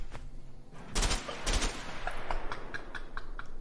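A burst of video game gunfire, two loud close shots followed by a rapid run of lighter cracks, with no talking.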